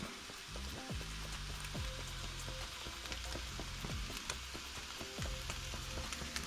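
Scrambled eggs with melted cheese being stirred in a hot pan, a steady sizzle running throughout with repeated scraping strokes of the utensil against the pan surface.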